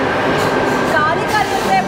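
Steady loud rumble of a metro train at a station in Australia, a continuous rail drone with faint squealing tones, under people talking.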